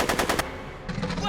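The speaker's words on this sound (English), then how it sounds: "You shooting at me? Are you shooting at me?" Rapid bursts of machine-gun fire aimed at the player in a Back to the Future video game, a fast rattling volley, a short pause, then another string of shots.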